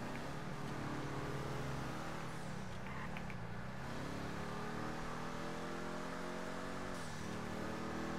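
A car engine in the GTA video game hums steadily, with its pitch dipping and rising as it revs, running continuously and fairly close with no talking.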